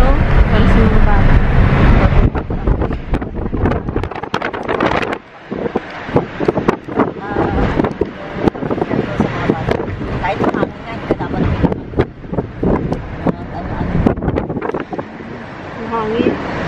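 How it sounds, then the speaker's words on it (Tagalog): Strong wind on the clifftop at Dingli Cliffs, Malta, buffets the microphone in heavy, gusting roars, with voices faintly audible beneath the rushing noise. "Hangin."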